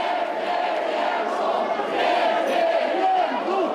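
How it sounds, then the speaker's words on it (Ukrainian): A crowd storming the gates of a regional administration building, shouting slogans: a dense, loud roar of many voices with rising chant-like shouts, continuous and close. "Ось валять ворота, забирають у правоохоронців амуніцію і навіть вигукують ті самі гасла."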